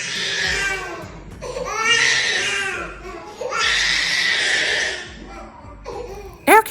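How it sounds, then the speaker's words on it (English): A young boy cries and screams in long, high, wailing bursts separated by short breaths, close and loud, with a sharp thump near the end. "sharing a video of her son crying, screaming, and hollering"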